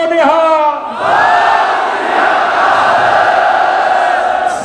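A large crowd at a kabaddi gathering roars a Sikh jaikara in reply to the call "Bole So Nihal", one loud collective shout that swells and holds for several seconds.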